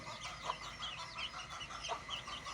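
Young chicks of Golden Heavy Buff and desi hens, with some fancy breeds mixed in, keep up soft, continuous high peeping and chirping nearby, faint and without any talk.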